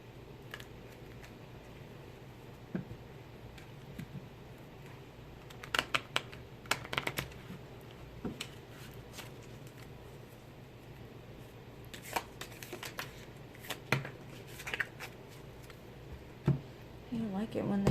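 A large deck of tarot cards is shuffled and split into two piles by hand, with quick bursts of riffling and flicking close up over a quiet room and a faint steady hum.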